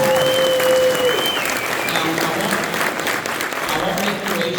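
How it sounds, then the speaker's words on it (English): An audience claps for a school wind ensemble at an intermediate school's winter concert, a dense, steady wash of applause. It holds throughout and sits close and full, with a lone sustained tone fading out early on. "I think these students deserve another round of applause"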